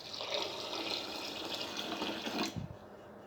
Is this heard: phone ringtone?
no